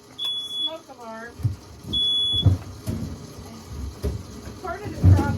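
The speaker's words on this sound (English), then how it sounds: "the smoke alarm." A smoke alarm mounted close to a wood burner chirps in short high beeps at the start and again midway, while a person talks and moves around nearby.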